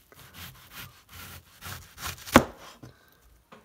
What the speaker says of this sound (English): just slide it along the knife, just getting a real thin onion